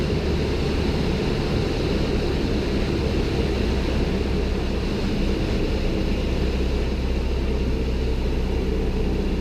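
A light aircraft engine drones steadily from inside the cabin, a dense constant hum with no clear change in pitch, heard alone without talk.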